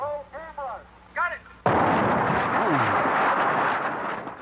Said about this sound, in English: These are the explosions as we filmed them for this report.